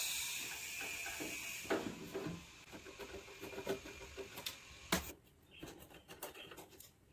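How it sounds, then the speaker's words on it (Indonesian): Bolts being loosened on a vintage Marantz amplifier during repair, with faint small metallic ratcheting clicks and scrapes and a few sharp taps, quiet and close. "Ini ada beberapa baut, akan coba saya lepas."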